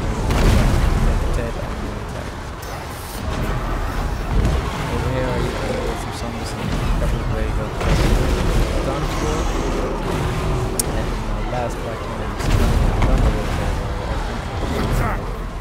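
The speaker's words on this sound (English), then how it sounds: "he's shooting down my base as fast as I can with these missiles" Missiles pounding a base during a video game battle, a steady stream of booming impacts and rumbling blasts lasting throughout, with a voice talking over the explosions.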